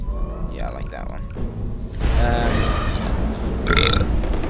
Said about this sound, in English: I've burped like 6 times in this video already